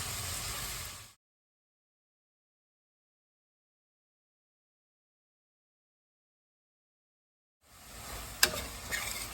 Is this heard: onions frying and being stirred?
yes